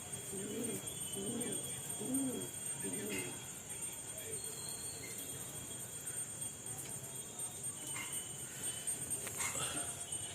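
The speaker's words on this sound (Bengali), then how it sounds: "দেখুন পায়রাটা" Pigeons in a loft coo in a few soft, rhythmic bursts early on, close by, followed by quieter background rustling and faint talk.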